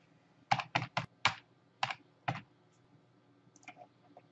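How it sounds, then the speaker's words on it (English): Six crisp keystrokes on a computer keyboard in quick irregular succession, close and clear in a quiet room, followed by a few faint softer clicks. "Type sign in the search box for the component toolbar"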